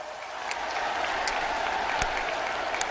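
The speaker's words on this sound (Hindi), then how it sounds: "जोरों से ताली बजाइए साथियों" A rally crowd claps steadily and loudly throughout, dense applause with a few sharper individual claps standing out, no speech over it.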